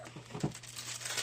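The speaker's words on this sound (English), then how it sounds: "More wax paper." Wax paper crinkles and rustles close by as it is handled at a craft table, a few short crisp crackles in quick succession, fairly quiet, with no talk.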